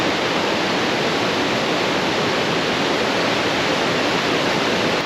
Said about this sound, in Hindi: ये पानी कहाँ से आ रहा है?